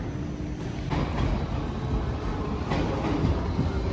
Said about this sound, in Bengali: চলো, মেট্রো তো চলে এসছে